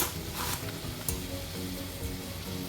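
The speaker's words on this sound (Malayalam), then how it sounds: "ഇതുപോലെ ബാക്കിയുള്ളതും ഫ്രൈ ചെയ്തെടുക്കാം" Brinjal slices fry in oil with a soft, close sizzle and scattered crackles, a couple of brief louder spits standing out over the steady bubbling.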